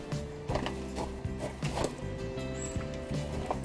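Screws being driven into the wooden frame of a hydroponic bench, giving a series of close mechanical ratcheting, whirring bursts with knocks and creaks from the wood, without talk.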